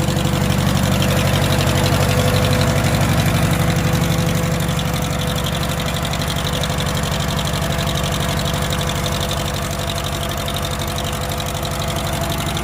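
A Farmall H tractor engine runs with the choke pulled out, a loud, steady, close-up chugging idle with a rapid even pulse that carries on throughout.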